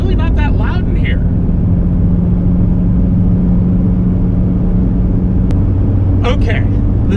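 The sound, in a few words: 1994 Mitsubishi Delica turbodiesel interior road noise, knobby tires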